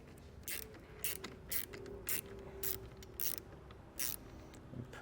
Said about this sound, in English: I'm just going to remove this nut with a 10mm socket